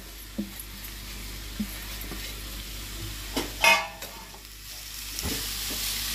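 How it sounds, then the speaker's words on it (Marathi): Jaggery melting in ghee for traditional seven-layer ghavna, stirred steadily in the pan, gives soft scraping strokes and occasional louder spoon clinks over a faint, quiet sizzle. "आपला गुळ विरघळेपर्यंत तुपामध्ये चांगलं परतून घ्यायचं।"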